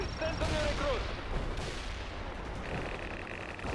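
Battle gunfire in World in Conflict, a Soviet assault mission, with distant rattling shots and explosions layered under a busy combat soundscape, fairly faint, with a brief whistling tone early on.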